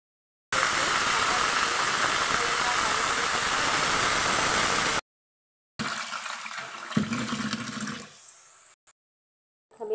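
Greens dropped into a hot pan for a Nepali-style leafy curry give a loud, steady hiss that fills the first several seconds, then breaks off; afterwards quieter stirring and clatter follow with some low, mumbled sound.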